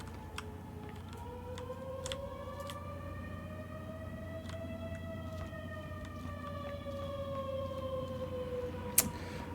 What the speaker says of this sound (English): That siren doesn't sound good.